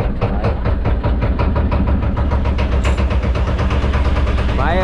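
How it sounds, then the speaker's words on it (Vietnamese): Diving boat's 90V generator engine runs with a steady low, heavy idling rumble and fine rhythmic knocking, loud and close throughout, with no voices over it. "Bây giờ sẽ nổ máy lên."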